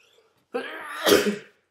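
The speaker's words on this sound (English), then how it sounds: "that was a beautiful sneeze" A single sneeze, a short indrawn build-up bursting into a loud, breathy explosion, then quickly fading to silence.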